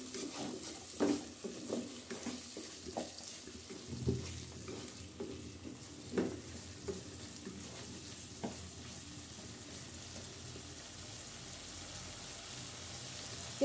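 Potato cubes for a restaurant-style vegetable and shrimp dish being stirred in a frying pan, with scrapes and knocks of the spatula over a soft, steady sizzle.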